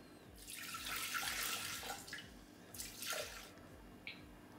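Water poured from a container into a Thermomix bowl while preparing endives with halal turkey ham, a steady close splashing pour that swells and eases in two bursts, then a brief drip at the end.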